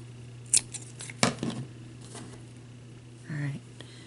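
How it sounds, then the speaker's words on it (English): Scissors snip off the ends of ribbon or string on an Easter candy favor: a few sharp close cuts with light handling rustle in between, in a quiet room. "you're going to cut this off, your ends."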